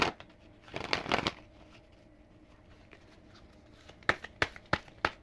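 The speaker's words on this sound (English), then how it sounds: "I'm gonna shuffle off camera." Cards are riffled and shuffled in two bursts: a quick flurry early, then a series of crisp separate snaps near the end, close by and fairly quiet.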